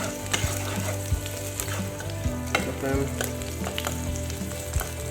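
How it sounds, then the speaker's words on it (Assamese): Garlic fries in a pan with a steady crackling sizzle, broken by frequent knocks and scrapes of a utensil stirring it, loud and close, with no voice heard. "নহৰুকেইটা ফ্ৰাই কৰি লৈছোঁ।"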